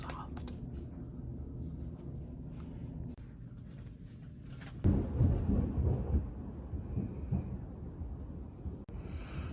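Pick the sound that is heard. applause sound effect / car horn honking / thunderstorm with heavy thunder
thunderstorm with heavy thunder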